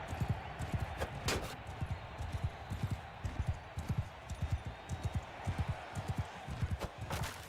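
Horse hooves clop in a rapid, steady galloping rhythm in Mount & Blade II: Bannerlord, moderately close and fairly quiet. A faint background wash runs underneath, with an occasional sharper impact.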